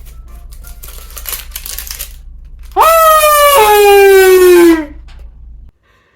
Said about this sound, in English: A kazoo, complete with a hole.